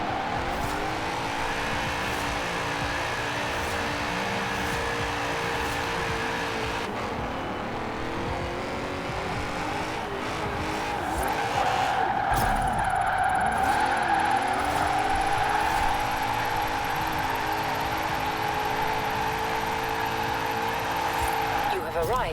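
A 460-horsepower drift-tuned Lexus IS F roars steadily and loudly, its engine note rising and falling as it drifts, with tire squeal and skidding mixed into a continuous, close racket.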